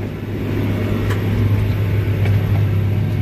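A tractor, a 2375, pulls a disk about three inches deep across a rough, molehill-covered field, producing a loud, steady low engine drone with faint rattles and knocks over it.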